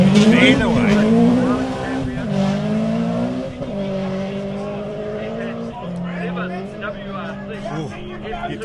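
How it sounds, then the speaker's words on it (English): A rally car driven by 1999 British rally champion Alistair McRae at the Ashley Forest Rally Sprint accelerates hard, engine pitch climbing and dropping through several quick gear changes, loud and close, with a commentator talking over it. "you listen to the gears of that car, it's just absolutely perfect gearing"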